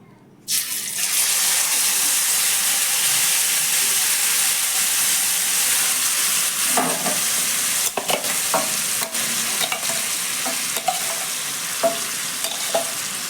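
Mango pulp drops into hot oil in a wok and bursts into a loud, steady sizzle that begins abruptly and continues close up. Intermittent spoon scrapes and stirring clatter come in the second half, with no talk.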